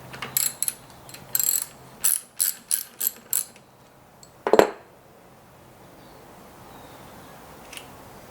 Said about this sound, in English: first step is going to be to remove the 11mm nut